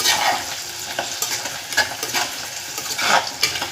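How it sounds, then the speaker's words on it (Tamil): Dried fish curry base sautéing in a generous pool of oil, a steady close sizzle broken by bursts of scraping and stirring in the pan. "இது அப்படியே வதங்கட்டும்"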